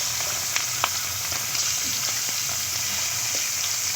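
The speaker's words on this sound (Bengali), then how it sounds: "ভালো করে উল্টি পাল্টি ভেজে নেব।" Fish pieces, heads included, frying in oil in a pan, giving a loud, continuous close sizzle with scattered crackles and a few light stirring knocks, no voices.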